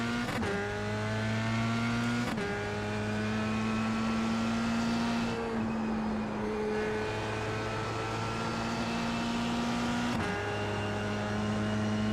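Single-seater race car in iRacing with a torquey engine droning steadily at high revs, harmonic tones holding level with brief gear-shift dips, loud and continuous with no talk.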